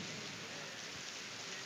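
Steady rain falling outdoors during an open-air religious gathering, a continuous even hiss of drops on surfaces with no voices, moderately faint throughout.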